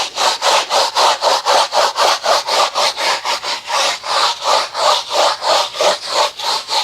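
Steady back-and-forth scrubbing of a stiff brush over a rubber car mat with hexagonal spaces, about two rough strokes per second, close up and loud with no talking.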